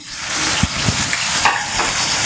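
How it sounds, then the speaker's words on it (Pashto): Chopped onion fries loudly in hot oil for an Afghani pulao, with a steady close-up sizzle and a few soft knocks of stirring. "تیل ګرم شوي دي، په دې کې به اوس مونږ پیاز شامل کړو."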